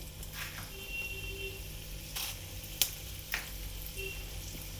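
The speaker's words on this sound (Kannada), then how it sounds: "ಇದನ್ನು ಸ್ವಲ್ಪ ಬ್ರೌನಿಷ್ ಆಗೋ ತನಕ ಹುರ್ಕೋಬೇಕು" Urad dal and chana dal fry in hot oil with mustard seeds, giving a steady close sizzle broken by a few sharp pops and crackles.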